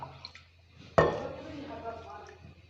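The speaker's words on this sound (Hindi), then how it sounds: "तो ये हम इसके अंदर थोड़ा सा पानी भी डाल देते हैं।" Water poured into a kheer mix of blended ingredients and semolina in a pot: a sudden splash and short pour, then a fading liquid trickle, close by and with no talk.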